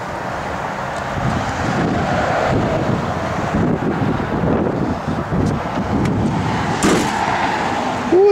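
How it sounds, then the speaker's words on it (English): Cold outdoor wind gusts steadily across the microphone beside a 1969 Chevrolet Nova, a loud, continuous low buffeting roar with no talk. "That wind is killer."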